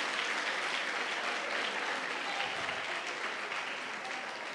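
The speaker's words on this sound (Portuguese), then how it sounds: "se for para aplaudir, vamos aplaudir direito, vamos aplaudir bom." Church congregation applauding during a Portuguese-language sermon, a dense, continuous roar of clapping that fills the room evenly, loud and sustained with no speech over it.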